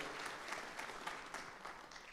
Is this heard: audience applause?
yes